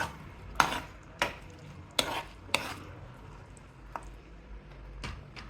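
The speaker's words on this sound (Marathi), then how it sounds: "मंचुरियन ही ग्रेव्हीमध्ये छान मिक्स करून घ्यायचे आहे" Veg manchurian balls are stirred into a thick gravy, giving a handful of distinct spoon knocks and scrapes against the pan over a quiet low simmer.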